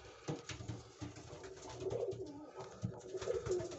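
Berlin-breed pigeons in a loft give soft, low repeated coos and rustling at close range, with several overlapping calls and no speech.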